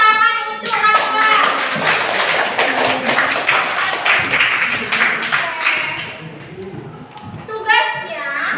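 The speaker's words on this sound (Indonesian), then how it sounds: "beri tepuk tangan untuk Raka" Schoolchildren clapping for a classmate in a classroom, a burst of scattered hand claps lasting several seconds, with children's voices talking before and after it.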